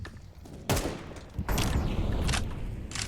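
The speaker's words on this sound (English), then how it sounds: "Grenades falling on mid." Grenades burst in Counter-Strike 2 during a tournament match, a sharp blast landing partway in, then a denser run of explosions and gunfire continuing to the end, loud and close with no talk over them.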